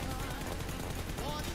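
Rapid PUBG gunfire crackles in a dense, steady burst under a loud, busy mix, with faint voices mixed in.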